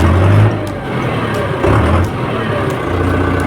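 A farm tractor's diesel engine runs with a loud, steady low rumble and slight swells in revving, close by and filling the whole stretch.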